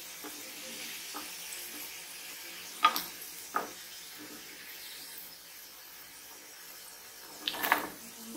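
Potatoes frying in mustard oil in a pan give a soft, steady sizzle, with a few sharp clinks and scrapes from stirring heard up close.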